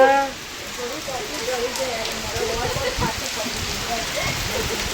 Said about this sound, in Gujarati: પાછો જોરદાર વરસાદ ચાલુ થઈ ગયો